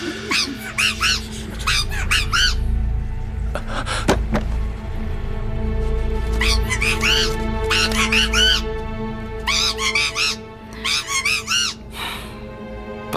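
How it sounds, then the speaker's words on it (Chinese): A mynah bird in a palace scene of a Chinese period drama squawks in repeated bright, chattering bursts, loud and close over a steady low room hum, with a short pause before several more clusters of calls. "这个八哥是哪儿来的呀？"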